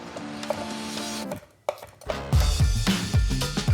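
A knife chops a pepper into big chunks on a cutting board, a run of close, loud, irregular thuds and taps, briefly pausing before a faster burst of cuts.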